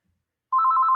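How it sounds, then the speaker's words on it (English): A telephone bell starts ringing abruptly after half a second of silence, a loud steady electronic trill with a fast pulsing rhythm, heard alone and close. "Another phone call."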